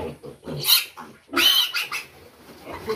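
Pigs and piglets at a breeder farm grunt, then squeal in sharp bursts, with a loud shrill squeal near the start and a longer one midway, close by amid gusty monsoon wind.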